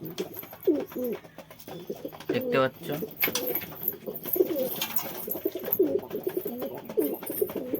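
Pigeons cooing at a house, repeated soft low coos in steady bursts close by, with a voice talking over parts of the sound.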